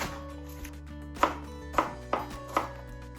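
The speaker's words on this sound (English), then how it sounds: "And just cut these up fairly small." A knife chops washed, topped spring onions on a board, giving four distinct sharp thuds at an uneven pace over a low steady kitchen hum, close and fairly quiet.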